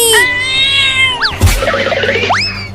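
Cartoon kitten meows in a few drawn-out, high-pitched cries with bending pitch, loud and close, mixed with a cartoon boing-like effect and a thump in between.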